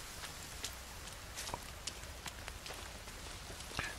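Steady rain at night in the survival video game The Forest, a dense, even hiss of drops falling on surfaces with a few sharper drips, continuous and alone without talk.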